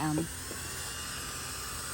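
A power drill on its lowest setting sands a car headlight lens dry with 500-grit sandpaper, a steady high whine running throughout after a brief spoken word at the start.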